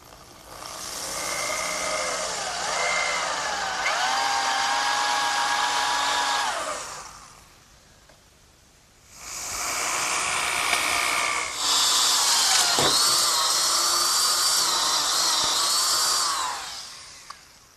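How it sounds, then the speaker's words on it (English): A power drill with a 1 3/8 inch bit bores through an oak 2x4 for a workbench bench screw, whining loudly and steadily in two long runs split by a brief pause, the pitch wavering under load, with no speech. "I'm ready to drill a hole through the 2x4 in oak for my bench screw"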